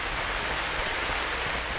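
A waterfall in the video game The Witcher 2: Assassins of Kings, a steady broadband rushing roar of falling water, constant and fairly close, with no voices.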